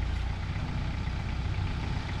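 A tractor engine works to lift and loosen a floor section of a manufactured home, producing a steady, low, rumbling drone at moderate loudness with no speech.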